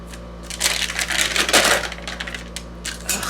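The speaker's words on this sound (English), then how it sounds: "I'm going to take my tear edge ruler and I'm going to make rough edges here on all four corners" Shipping box paper being torn along a tear edge ruler to rough up the edges: a run of close, crisp ripping and crackling bursts, fairly loud and heard alone, with no talk.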